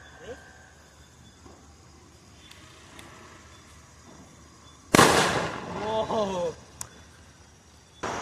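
A single loud firecracker bang bursts out during Diwali after a quiet stretch, followed by crackling and a short sharp pop, with faint background noise.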